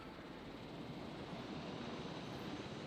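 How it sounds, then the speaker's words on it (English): A helicopter flies in the dinosaur park game Jurassic World Evolution, giving a steady, dense rotor-and-engine roar that stays fairly loud and constant throughout, with no talking. "I'm actually going to pilot the helicopter"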